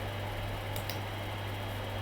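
A loud computer fan runs with a steady whirring hum and a low constant drone, with no talking heard.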